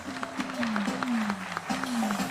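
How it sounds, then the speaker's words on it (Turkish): A crowd applauds at a retail store opening in Trabzon, the clapping moderately dense and somewhat distant, with a voice speaking over it and a sliding tonal sound running through. "Hep beraber alkışlıyoruz."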